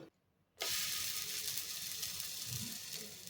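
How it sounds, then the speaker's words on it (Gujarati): Farali thepla roasting in oil on a hot tava, a steady close sizzle and hiss that starts suddenly after a brief silence and carries on evenly. "તો હવે આપણે તવા ઉપર તેલ લગાવી લઈશું અને આપણે થેપલાને લઈને શેકી લઈશું।"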